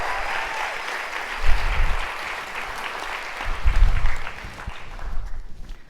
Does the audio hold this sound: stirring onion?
no